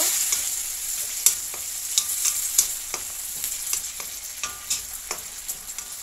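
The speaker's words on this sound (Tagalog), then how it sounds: "ilagay na natin yung ating shrimp. Medyo igisa-gisa lang muna natin siya rito." Shrimp sautés in a hot pan with onion and garlic for a Filipino sautéed pumpkin dish, a steady loud sizzle broken by repeated light clinks and scrapes of stirring, close up with no talking.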